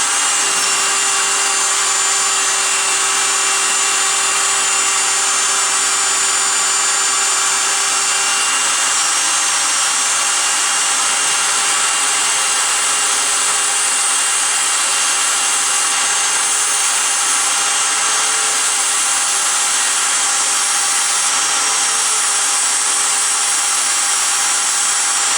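An engine valve is being lapped against its seat on a homemade motorbike build, making a continuous, harsh grinding rub. The sound stays loud and close, with no break for the whole stretch.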